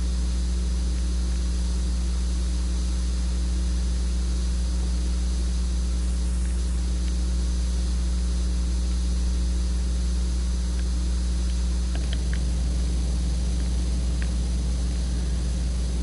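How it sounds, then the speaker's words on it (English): A pressure washer sprays water in the PowerWash Simulator video game on a Midgar cleaning level, a steady, unbroken hiss of spray that runs evenly throughout. "Thankfully, with this, I'm only just spraying water."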